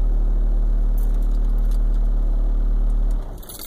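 A car engine idles with a loud, steady low rumble for about three seconds, then drops away abruptly near the end.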